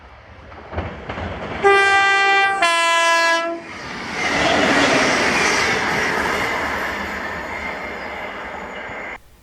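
ScotRail class 318 electric train passing at Greenfoot on a Cumbernauld service, opening with two sharp horn blasts followed by a rising, rumbling pass of wheels on track that fades toward the end.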